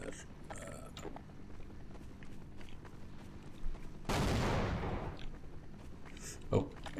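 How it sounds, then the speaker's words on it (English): Mechanical clanks and creaks from Half-Life: Source game action, then a sudden loud burst of rapid gunfire from a helicopter lasting about a second, followed by quieter rattling and a sharp thud. "that's a lot of gunfire"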